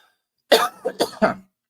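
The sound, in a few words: cough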